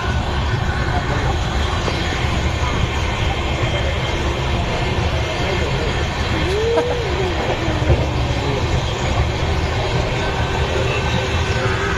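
A train rumbles along continuously as a steady, loud broadband roar with rattling wagons.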